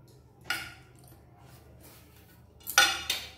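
A spoon clinks against a bowl while fish roe goes into gram flour batter for fritters, with two sharp metallic knocks and a few faint scrapes in a quiet kitchen.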